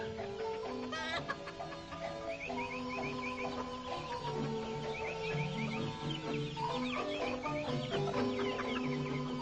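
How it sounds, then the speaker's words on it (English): Chickens cluck and a rooster calls in a village yard in Tepetlaoxtoc, Hidalgo, Mexico, in 1956, with busy overlapping clucks under faint background music. "Mamacita attended to the chickens."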